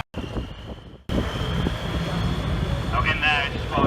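A pulling tractor powered by a 6.6 litre V8 diesel at a tractor pulling rally: a loud, sustained engine roar with wind buffeting, starting after a brief quieter moment and holding steady to the end.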